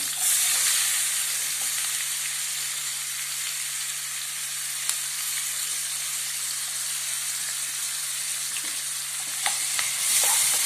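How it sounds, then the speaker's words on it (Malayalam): Sliced onions sauté in a pan with pepper, giving a steady continuous sizzle and frying hiss throughout, with occasional light stirring scrapes and no talking. "നന്നായിട്ടൊന്ന് സോട്ട് ചെയ്ത് കൊടുക്കാം."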